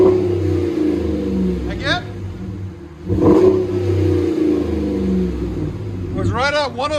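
RAM 1500 5.7L HEMI V8 exhaust with muffler, tips and resonators, a deep steady idle rumble broken by a few short revs, close by, with someone talking over parts of it.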